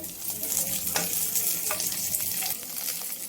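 Chopped onion hits hot oil in a pan along with chana dal and urad dal for a red chutney, giving a steady close sizzle with scattered crackles and scraping stirs throughout, no voices.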